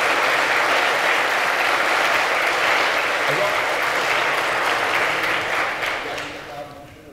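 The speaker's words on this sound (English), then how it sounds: "Give a round of applause to our presenters." Sustained audience applause at a debate, a thick wash of many hands clapping that holds steady, then tapers off toward the end.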